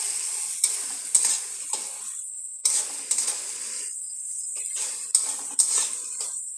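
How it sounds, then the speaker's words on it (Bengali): Spices with Kashmiri chilli powder frying in a pan, a bright continuous sizzle broken by repeated stirring strokes and spoon scrapes, with no talking. "আর একটু লঙ্কার গুঁড়ো, মানে কাশ্মীরি লঙ্কার গুঁড়ো দিয়ে দিলাম হালকা। এটাকে সুন্দরভাবে নাড়াচাড়া করব।"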